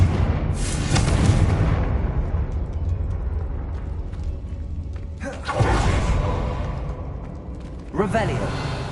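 A Confringo blasting spell cast in the video game Hogwarts Legacy: loud booming bursts near the start, around five and a half seconds and again near eight seconds, over a steady low rumble of game sound.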